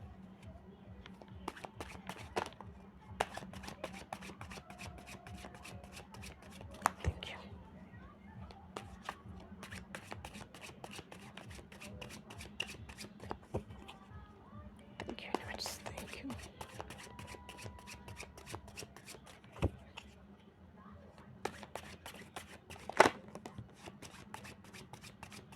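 A deck of cards being shuffled, giving a long run of crisp, rapid riffling clicks in repeated bursts over a low steady background hum, close and moderately loud.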